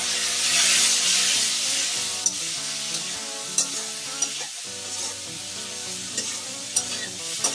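Spices fry in a pan with a little water just added, giving a hissing sizzle that fades as the liquid settles, while a spoon stirs and taps against the pan in scattered clinks.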